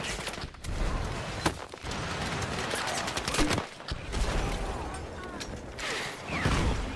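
Gun emplacements firing in a Battlefield game, a dense spread of distant blasts and bursts rumbling under continuous battle noise, with voices talking over it.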